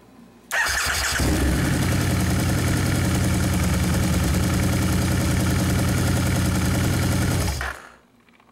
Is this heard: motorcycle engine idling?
yes